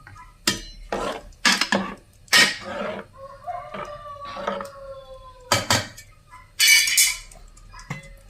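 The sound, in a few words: stirring jaggery rice in a pot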